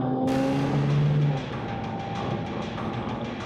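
A car speeds off after a hit-and-run on the road, its engine roaring loudly and steadily at first, then easing into a continuous rumble as it pulls away.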